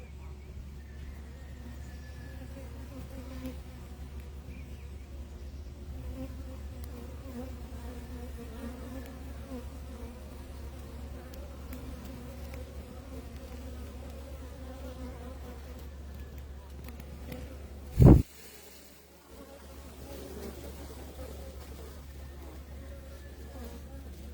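Honey bees buzz inside a live hive, a steady low drone that fills the whole stretch with faint higher whines over it, close up. One sharp knock or bump near the end briefly cuts through.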